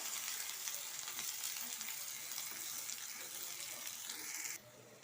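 Finely chopped onions sautéing in oil with mustard seeds, a faint, steady hiss of frying that drops away abruptly near the end.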